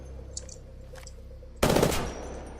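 A single burst from a 5-round burst submachine gun in Apex Legends, fired at a training dummy: a sudden loud, tight cluster of rapid shots over quiet game ambience, then a short fading tail.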